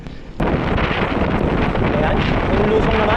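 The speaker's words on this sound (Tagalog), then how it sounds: "Puro lusong pero malakas ang hangin." Strong wind roars across the microphone during a downhill bicycle ride on a mountain road, a loud, steady rumbling buffet that kicks in abruptly after a brief quieter moment and holds without a break.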